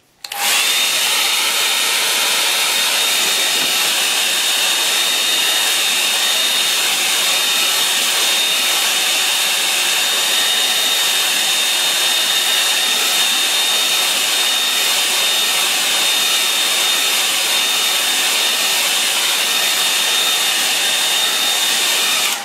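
A hair dryer drying paint on a painting blows steadily at close range, a loud continuous whooshing hum with a high whine, running unbroken after a brief start.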